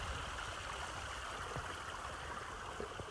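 A small waterfall on the Pinhoti Trail, running lower than usual, gives a continuous soft rush and trickle of falling water, faint and even, with no talking.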